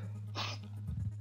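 A single short sneeze bursts out in a quiet room during a gaming session, brief and close, with a low steady hum underneath and a little murmur right after.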